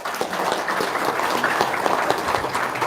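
Audience applause at a gathering honoring a woman who hosts orphaned children, steady dense clapping from a crowd throughout at moderate loudness, with no voices standing out.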